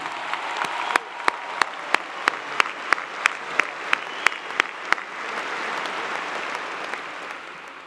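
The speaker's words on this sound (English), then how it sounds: "Will you please give a big, loud round of applause to Anna Grace for the amazing job she did singing the national anthem" A large crowd applauds at a Clemson University fall graduation ceremony after the national anthem is sung. Steady clapping fills the hall, punctuated by a dozen sharp, evenly spaced close claps before the sound thins into a broader wash.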